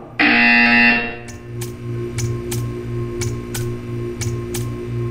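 A loud buzzer sounds in Portal 2 for about a second. It is followed by a steady rhythmic ticking with sharp clicks, and there is no talking.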